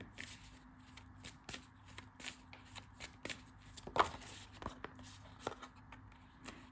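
An oracle card deck being shuffled by hand, soft rapid riffling and slapping of cards in quick irregular bursts, close and quiet, with no talking.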